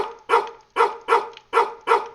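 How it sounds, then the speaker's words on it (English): Dogs in the video game No Ones' No Where bark in a steady, repeated rhythm, five loud close barks in quick succession with no talking. "there's definitely some dogs that don't want me to be in here"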